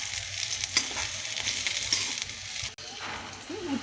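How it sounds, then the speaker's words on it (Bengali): Thin-sliced bitter gourd sizzling steadily in hot oil in a pan, a continuous bright hiss with occasional stirring scrapes and a brief dip near the end. "উচ্ছে ভাজা হয়ে গেল"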